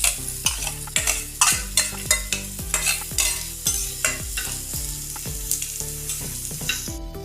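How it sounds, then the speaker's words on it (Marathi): Onion frying in oil in a pan on a home stove, stirred with steady rhythmic scrapes over a continuous close sizzle, with no talking. "कांदा भाजून घेते लाल रंगावर"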